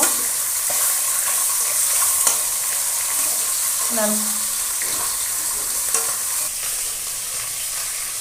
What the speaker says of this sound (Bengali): মাছগুলোকে লাল লাল করে ভেজে নেব